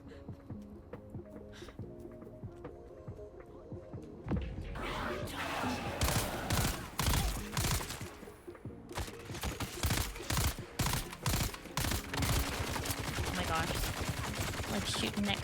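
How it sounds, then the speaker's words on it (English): Gunfire in the video game Dune Awakening: after a few quieter seconds of game ambience, dense rapid bursts of shots crackle loudly and repeatedly, in continuous volleys with brief gaps. "Shooting that guy's ear off, practically."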